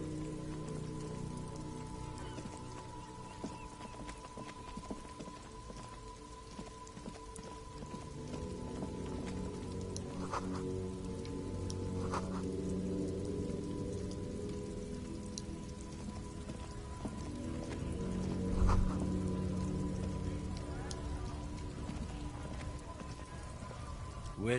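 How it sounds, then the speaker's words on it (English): Steady rain patters continuously at a soft, even level, with a low ambient hum beneath and a few faint tonal blips drifting in and out, in Disco Elysium. "Wait, it's raining now."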